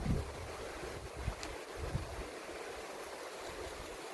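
Strong outdoor wind buffeting the microphone, a steady broadband roar with low rumbling gusts and a few thumps, sustained throughout with no talking.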